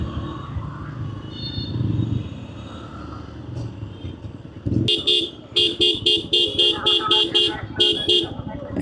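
Cars and auto-rickshaws stuck in a traffic jam near railway-line earthwork sound a low rumble, then a burst of loud, repeated horn honks in a rapid, overlapping rhythm through the second half.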